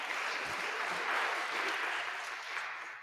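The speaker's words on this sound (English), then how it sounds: "let's give them a round of applause." Audience applause at a VSSN live-streamed event, steady dense clapping from a crowd filling the room, sustained without talk.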